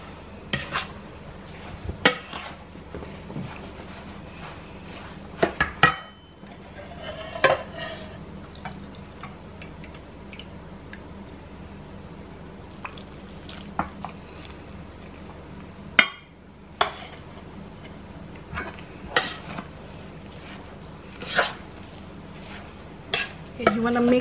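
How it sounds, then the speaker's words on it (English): Lao mieng mixture being stirred with water in a pot, a spoon scraping and knocking against the pot at irregular intervals over a low steady background, close by, with occasional faint speech. "You want to mix it well"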